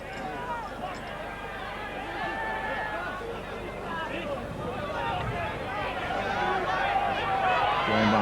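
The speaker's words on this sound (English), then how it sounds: "Very critical comments from the Oldham section of the crowd." Crowd at a 1986 Oldham versus St Helens rugby league match, a broad murmur of jeers and chatter from the stands, steady and moderately loud under commentary.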